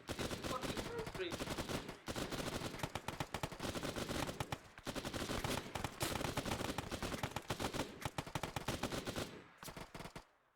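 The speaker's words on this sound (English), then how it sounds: "Dritte, keep firing! Lay him down some fire." Rapid machine-gun bursts in a war video game, loud, close automatic fire in long strings with brief pauses between them, and voices occasionally calling out underneath.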